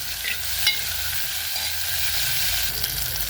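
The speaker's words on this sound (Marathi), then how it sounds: "छानपैकी ही फोडणी आपल्याला परतून द्यायची" A tempering of mustard seeds, fenugreek seeds and tomato sizzles steadily in hot oil as it is stirred, a loud, continuous frying hiss with a few light utensil scrapes.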